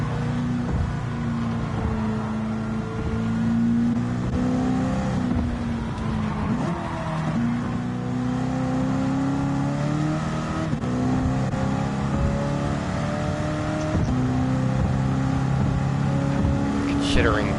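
Race car engine of a Cobra in a racing video game, running on fuel map 4 during a TransAm-rules race stint, droning steadily with rising and falling gear pitches throughout while someone talks over it.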